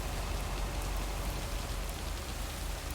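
Steady rain falls in the video game Lake, a continuous hiss of drops on surfaces with low rumbling underneath and no voices.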